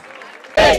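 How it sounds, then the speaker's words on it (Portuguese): A rap battle crowd bursts into sudden loud clapping and cheering in the final moments, following a short stretch of quieter murmuring. "Palmas, palmas, palmas!"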